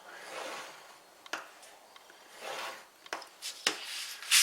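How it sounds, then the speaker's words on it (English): Scoring tool drawn along paper on the diagonal while making a fan fold card, soft close scraping strokes repeated with small taps and clicks between them. "we're going to score on the diagonal."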